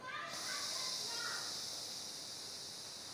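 Air is pushed forcefully out through one nostril during pranayama breathing practice, making a close, breathy hiss that starts abruptly and holds steady for about three seconds.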